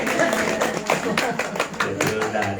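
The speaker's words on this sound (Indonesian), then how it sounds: "Beri tepuk tangan." Audience at a pesantren event with a child preacher claps hands, a brisk, fairly close run of sharp claps lasting a couple of seconds with voices mixed underneath.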